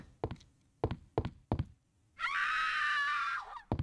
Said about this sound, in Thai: เสียงแหกปาก